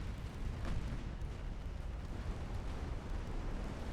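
Torpedo detonations in the naval warship game Ultimate Admiral Dreadnoughts, a continuous deep rumbling boom with a brief swell near the start, heavy and sustained throughout with no voices.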